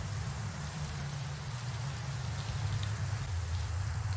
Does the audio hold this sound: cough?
no